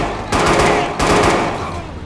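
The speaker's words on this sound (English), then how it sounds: "Holy shoot, this is a next level shotgun." A shotgun fires in the video game Watch Dogs 2. Two loud, close blasts land about a second apart, and each leaves a long, rumbling decay.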